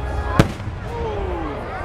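A single sharp firework burst cracks early at an outdoor event, followed by a whistling, descending tail and crowd murmur in the background, with a voice speaking over it.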